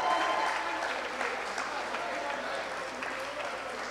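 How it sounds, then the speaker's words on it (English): An audience at a coding bootcamp demo day gives the teams a round of applause, a continuous, fairly soft patter of many hands clapping throughout. "Guys, one more round of applause for all the teams."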